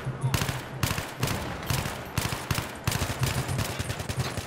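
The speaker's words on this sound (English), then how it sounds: "Now I'm getting shot at from over there." Bursts of automatic gunfire in Battlefield 3 multiplayer, repeated rapid volleys with short gaps, fairly loud and close, continuing throughout with faint voices in the background.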